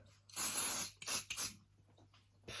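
A few short hissing bursts of skin oil from a spray bottle, close by: one longer spray followed by two quicker puffs, then quiet.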